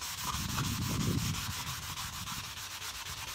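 Sandpaper rubs rhythmically across wood in quick, steady back-and-forth strokes, close and fairly quiet, with no talking.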